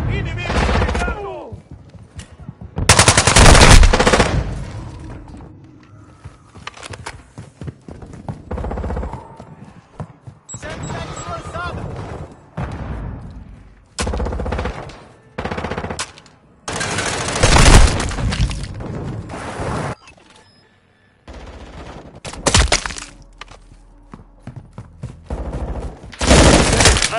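Bursts of automatic gunfire and explosions from a Call of Duty Modern Warfare 2 multiplayer match, loud close volleys separated by short lulls, with a player talking in between.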